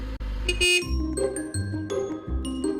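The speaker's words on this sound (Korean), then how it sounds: "누가 자꾸 빵빵거립니다." A car horn honks repeatedly in the video game Break In while a truck moves along. Several short tonal blasts come at intervals over a steady low engine drone.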